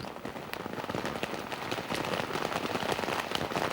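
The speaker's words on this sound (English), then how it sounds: "it's the rain beating on the camera during the typically tropical downpour which beset the first day" Heavy tropical downpour in Sulawesi during the 1988 Camel Trophy beats directly on a camera, a dense, steady, close crackling patter of raindrops that builds slightly in intensity.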